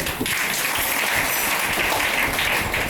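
Dense audience clapping at a devotional spiritual talk, steady and fairly loud for the whole stretch with no voices over it.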